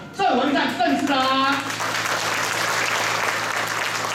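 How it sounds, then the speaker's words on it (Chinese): An audience at a Longtan district sustainable development forum and New Year tea gathering breaks into sustained applause welcoming Mayor Cheng Wen-tsan, starting under a speaker's voice and then continuing alone as dense, even clapping. "掌声欢迎我们市长郑文灿郑市长"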